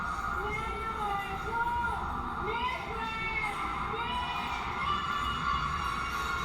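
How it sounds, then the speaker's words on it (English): A beauty pageant crowd at a Miss Grand International 2023 preliminary in Asia cheers and screams for the Vietnam contestant, a loud, excited mass of voices with rising shouts, heard somewhat distantly. "And you heard the crowd screaming Vietnam with her, which means she's one of the favorites."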